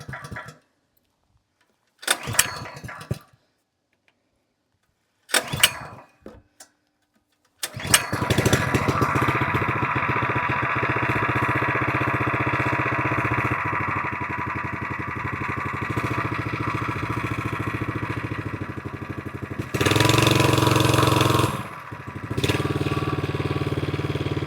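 Gas-powered VEVOR 78.5cc plate compactor engine, a 2.8 HP unit, gets several short pull-start bursts and then catches, running loud and steady with a brief surge in revs near the end.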